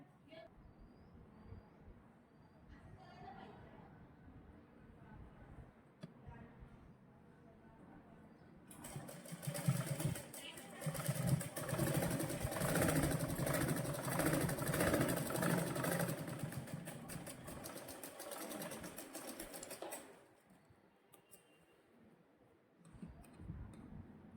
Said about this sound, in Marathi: आता मात्र ह्याला पलटी करून आपल्याला फिटिंगची शिलाई मारायची आहे.